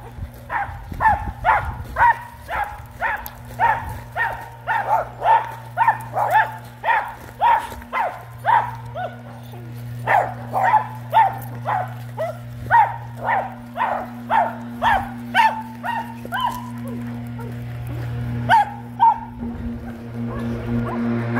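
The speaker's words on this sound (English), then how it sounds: "Okay, here we meet a neighbor's dog." A neighbor's dog barks in a steady, rhythmic series of loud, close barks, keeping a regular pace for about twenty seconds before thinning out, with a low hum underneath.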